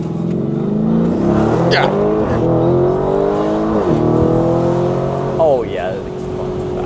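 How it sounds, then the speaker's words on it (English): A Lamborghini Urus Performante engine revving hard on a launch, loud rising and falling roars with gear-shift breaks, heard from inside the cabin while people talk and exclaim. "Should do a launch, foot on the brake."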